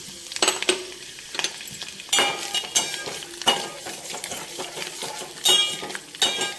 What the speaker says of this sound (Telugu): ఇవి కూడా కొంచెం వేగాక, ఇవి వేగిపోయినాయండి